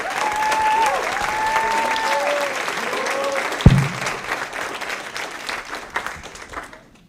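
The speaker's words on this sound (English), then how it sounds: "Big round of applause" An audience at an E Squared finals event breaks into dense, sustained applause that fades toward the end, with a voice briefly heard under the clapping.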